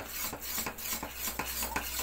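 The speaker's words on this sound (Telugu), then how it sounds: "సో మనం దీన్ని ఇట్లా తిప్పుతూనే ఉందాం." A spoon scrapes and rubs against a pan while mysore pak syrup is stirred, a steady repeating rhythm of soft scraping strokes over a bubbling background, close and moderately loud.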